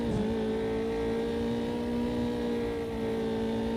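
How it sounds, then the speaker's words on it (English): A race car engine in a video game drones steadily at held throttle, a sustained buzzing tone with slight pitch wavering, loud and continuous. "You can hear Nate just having to feather the throttle"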